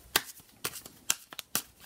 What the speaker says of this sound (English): I'm going to go ahead and shuffle another one.